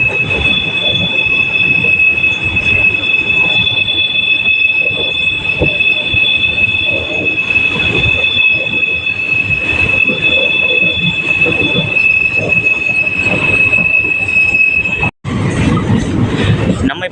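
An MRTS local train pulls into St. Thomas Mount station in Chennai, its wheels screeching in a loud, sustained metallic squeal over constant rumbling rail noise, with a brief cut near the end.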